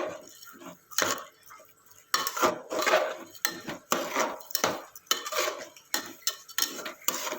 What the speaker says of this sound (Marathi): डाळ आणि तांदूळ फोडणीत चांगले मिक्स करून घेतले की खिचडीला स्वाद खूप छान येतो